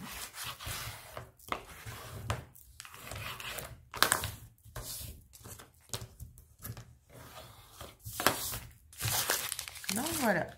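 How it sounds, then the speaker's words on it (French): Adhesive strips peeled away from a handmade photo album, heard as repeated close crinkling, tearing bursts in uneven short bouts, with talking over part of it. "j'ai juste à décoller les autres bandes"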